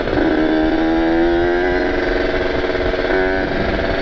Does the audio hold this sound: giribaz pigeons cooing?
no